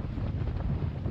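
Strong wind gusts buffet sailboats out on the water, a steady loud rush of blowing air across the microphone with no break.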